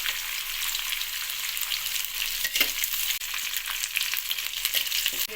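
Green chilies sizzle steadily in a hot pan while semolina upma is being cooked, a dense, loud, continuous frying hiss with a few stirring scrapes and crackles throughout.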